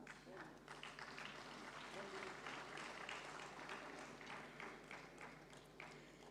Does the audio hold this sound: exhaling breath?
no